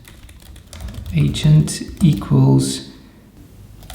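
Computer keys clatter in quick bursts as C# LINQ code is typed, a close, crisp run of taps heard under a man's speech.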